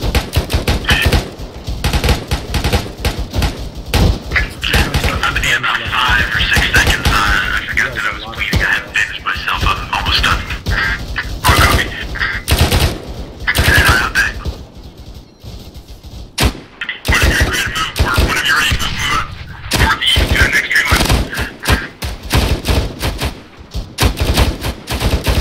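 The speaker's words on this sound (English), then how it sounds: "we're getting locked down from the rest of the objectives by small arms fire" Dense small arms fire crackles almost continuously at a military simulation exercise, rapid bursts and single shots, loud and near, with brief lulls, while voices talk over the shooting.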